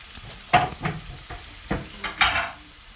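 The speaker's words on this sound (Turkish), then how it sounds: "Soğanları üstüne atıyoruz yağ kızdıktan sonra arkadaşlar. Şöyle soteleyelim." Onions sautéing in hot oil in a pan, tossed and stirred in several quick bursts of scraping and sizzling, close and fairly loud, with no voices.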